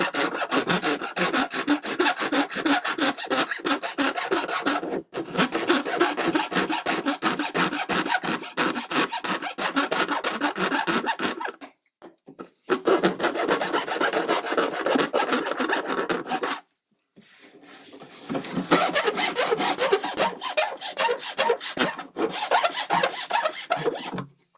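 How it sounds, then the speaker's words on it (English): Hand rasp filing the wood of an antique furniture piece, rhythmic back-and-forth scraping strokes, close and loud, in long bursts separated by two brief pauses. "we're going to use a rasp to clean it up"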